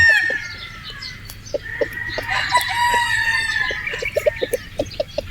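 A Boston Roundhead rooster, a brood stag, crows repeatedly and clearly nearby, with other fowl clucking around it in a farmyard.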